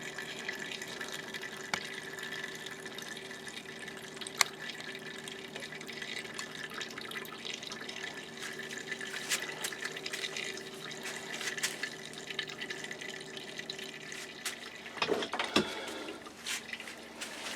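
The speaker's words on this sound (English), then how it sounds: "You can see the juice is coming out there already." Apple juice trickles and drips from a homemade mini cider press, a faint continuous liquid trickle with scattered small drips and a brief louder splash near the end, quiet and close with no voices.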